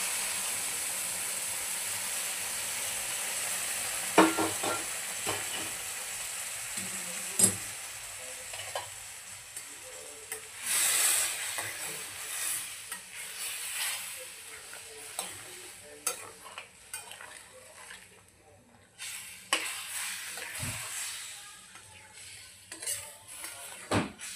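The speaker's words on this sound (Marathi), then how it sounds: "यामध्ये आपण बॉईल केलेलं आता गरम पाणी ॲड करूया." Chicken alani frying in oil in a pot as boiled hot water is poured in, giving a steady sizzle and hiss with scattered stirring clinks and pot knocks, fairly close and without talk.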